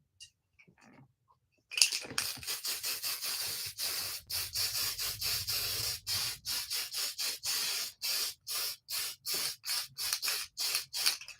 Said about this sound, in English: I'm gonna spray him again with the finishing spray.